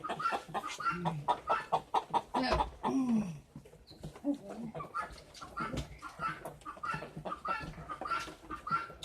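Chickens cluck repeatedly around nesting boxes in a hen coop, busy overlapping clucks and squawks up close, with a person's voice briefly heard among them.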